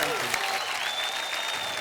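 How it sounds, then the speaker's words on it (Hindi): Studio audience at a Hindi TV quiz show applauds in a brief dense burst, while voices and a pitched tone carry over the clapping. "तालियां"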